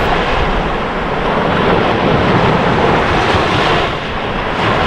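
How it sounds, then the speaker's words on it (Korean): Rough sea waves crashing at Tubod Beach on Siquijor, a loud, constant roar of surf mixed with wind buffeting the microphone, unbroken throughout. "파도가 너무 거치네요."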